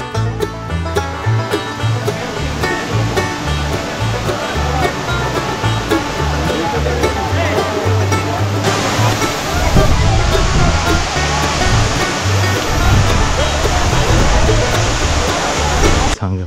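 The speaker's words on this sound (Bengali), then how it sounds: "এই হচ্ছে ছাঙ্গে ফলসের ভিউ" Changey Falls near Kolakham, with crowds bathing below, pours in a steady broadband roar of rushing water that swells noticeably louder partway through and holds unbroken to the end.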